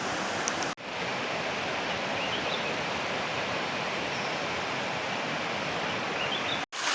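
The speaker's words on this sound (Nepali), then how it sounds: "मजासँगले बगिरहेछ, जिर्मले खोला।" The Jirmale river streams past in a steady, close rushing wash of water that runs unbroken, apart from two momentary dropouts, with no voices over it.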